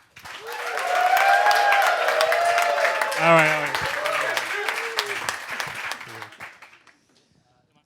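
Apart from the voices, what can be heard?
audience applause and cheering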